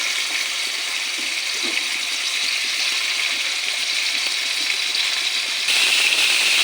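Shrimp frying in hot oil in a wok give a steady, bright, watery sizzle that stays even throughout and swells a little louder near the end.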